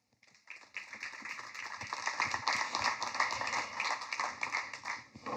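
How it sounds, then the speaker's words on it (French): Applause from a forum audience at an agriculture conference, starting faint and building into a moderate, rippling patter of many hands clapping at a distance. "Vous pouvez l'applaudir"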